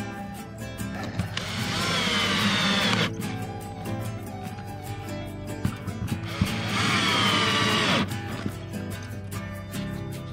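A power tool fastens drainage pipe that doubles as a ventilation point on an outdoor sauna build, running in two loud whirring bursts of a few seconds each with quieter clatter and handling noise between them.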